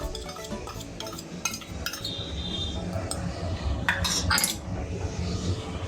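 Stirring a besan flour and ghee mixture in a metal bowl for laddu, with repeated scraping clinks and taps of a utensil against the bowl, close and moderately loud.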